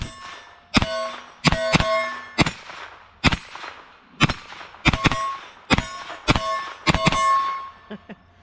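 A Mean Arms bearing-delay PCC AR-15 upper fires a string of shots in quick pairs and singles, each round striking steel with a loud, ringing clang that decays before the next.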